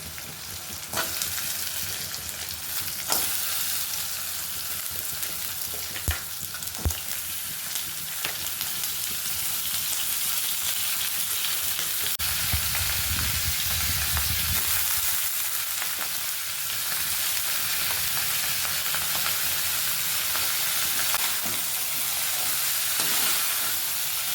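Crab pieces frying in a hot pan with turmeric, a steady dense sizzle and hiss that runs throughout, with a few brief stirring clatters and a short low rumble partway through.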